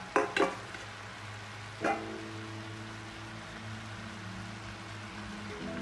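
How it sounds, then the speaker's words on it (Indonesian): Potatoes and fried tempeh are stirred in a pan over low heat, giving a few scraping clinks of the spatula at the start and later, over a steady soft sizzle and a low background hum. "Kemudian saya akan mengaduknya hingga tercampur merata dengan api yang kecil"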